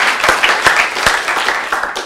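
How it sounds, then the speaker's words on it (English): A round of applause from a conference audience honoring Simon Ho, dense steady clapping with a few sharper individual claps standing out, moderately loud and continuous for a couple of seconds. "I would like to actually invite a round of applause for Simon for all the hard work"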